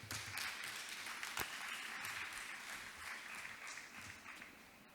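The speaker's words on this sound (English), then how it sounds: "Could we give her another round of applause?" Audience clapping at a conference event, a continuous faint patter of applause lasting throughout at low level.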